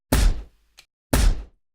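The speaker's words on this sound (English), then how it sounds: "the main explode on its own is that mine explosion that we used in one of the other weapons" A mine explosion effect for a Doom weapon, played twice about a second apart: two loud, punchy, booming blasts with a faint tick between them and clean silence around each.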